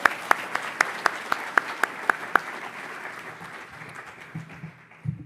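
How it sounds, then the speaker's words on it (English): A room audience at a political forecasting event gives a round of applause: crisp individual claps ring out in a steady rhythm over a dense clapping bed, then fade away, with a voice and some rustle at the end. "So give her a round of applause."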